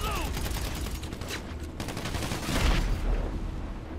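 Dense gunfire during a casino mission in the video game GTA 5 Online, rapid overlapping shots with a heavier boom near the end, crackling continuously with faint voices mixed in.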